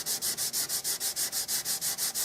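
Sandpaper rubs over a Winchester Model 100 rifle stock filled with super glue, a close, soft hiss repeated in an even rhythm of about a dozen quick strokes, with no talk.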